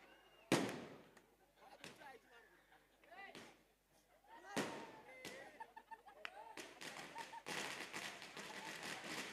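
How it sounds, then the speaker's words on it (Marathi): Firecrackers burst to welcome guests at a box cricket tournament, with sharp cracks and a loud volley of rapid pops toward the end under an announcer's voice and crowd chatter. "फटाक्याच्या आतिषबाजीमध्ये"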